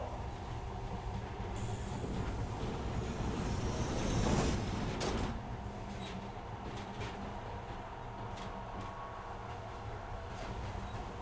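A subway train pulls into a station in Metro: Last Light, a steady, heavy rumble of wheels on rails that swells midway with a squealing rush, then settles into a continuous clatter. No one speaks.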